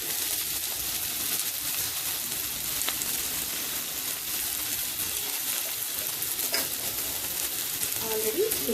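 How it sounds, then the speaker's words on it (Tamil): Onions fry and sizzle steadily in a pan, close and continuous, with occasional stirring. "ஆனியன் போட்டு நல்லா ஃப்ரை பண்ணுங்கள்"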